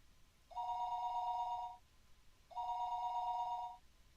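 A telephone rings twice in the visual novel Higurashi: When They Cry, Chapter 4 Himatsubushi. Each steady electronic ring lasts just over a second with a pause between, clear and alone over a faint background.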